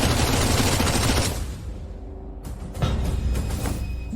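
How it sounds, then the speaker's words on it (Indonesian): Dense automatic gunfire from several guns in a dramatic action film scene, a loud continuous rattling barrage that drops off briefly, then resumes in sharper bursts with mechanical clacks, with no talking. "Tembak. Jadikan dia saringan."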